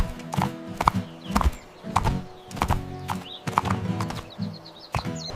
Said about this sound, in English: Donkey. This is a donkey.